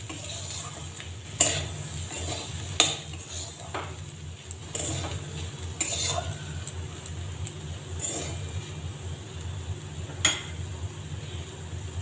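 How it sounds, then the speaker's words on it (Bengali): A spoon stirs green moong dal mixed with lemon juice in a pot, sharp scattered clinks against the metal over a low steady hum and soft sizzling, with no talking. "খুব ভালো করে মিশিয়ে দেব।"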